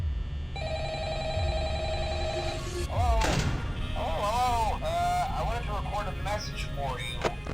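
An office phone rings in the Five Nights at Freddy's horror game, a repeated electronic trill that starts after a moment and keeps going, heard alongside a low hum, with warbling tones rising over it later.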